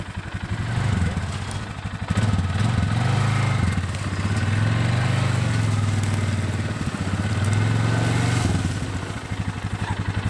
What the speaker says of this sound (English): We probably should have turned the 4-wheeler around considering we need to go this way, but Dan's expert driver